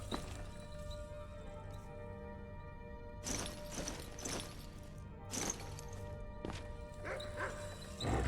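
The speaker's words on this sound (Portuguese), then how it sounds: "tá vindo os 2 cachorros" Two dogs bark in the video game Skyrim, giving a few sharp, moderately loud barks in separate bursts over a steady ambient game backdrop.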